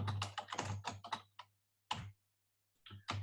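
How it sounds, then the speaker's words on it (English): Quick bursts of computer keyboard typing, close and crisp, with a pause in the middle before a few more keystrokes, over a low steady hum. "my typing's hopeless at the moment."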